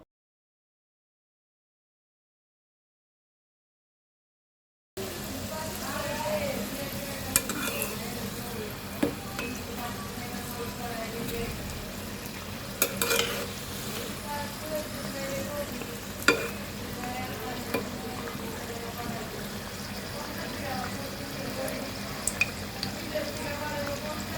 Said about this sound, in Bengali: আমি সিঙ্গারাগুলো সুন্দর করে এপিট ওপিট ভালো করে ভেজে নিচ্ছিলাম